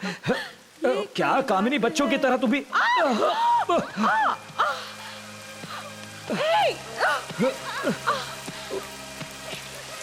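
Rain falls steadily through an outdoor scene in a Hindi-dubbed feature film, a soft wash running beneath continuous speech, a playful exchange with laughter and excited voices.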